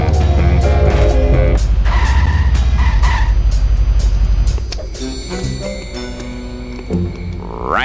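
Car accelerating hard and skidding with loud tire squeal in The Simpsons Hit & Run, a dense roaring engine over the first half that eases into quieter driving with music-like tones, ending in a rising whine.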